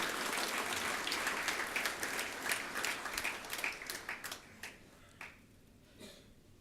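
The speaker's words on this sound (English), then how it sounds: "Kindly give a big applause to welcome him." Audience applause at a 27th Commencement Day ceremony welcoming chief guest Prabhu Chawla: dense, loud clapping that thins out and fades to a few scattered claps near the end.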